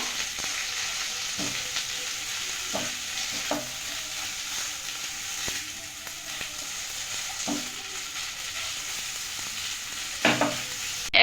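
Salted boiled potatoes fry with curry leaves in a pan for an Indian potato stir-fry, giving a steady bright sizzle with occasional scraping stirs of a spatula, close and continuous, with no talking.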